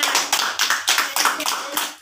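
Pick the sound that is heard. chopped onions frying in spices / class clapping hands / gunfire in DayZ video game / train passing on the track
class clapping hands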